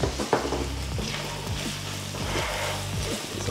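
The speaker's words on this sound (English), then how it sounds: "I'm going to soften the onions on high heat." Red onions fry over high heat in a pan, a steady close sizzle with intermittent scraping stirs and soft spoon clatter.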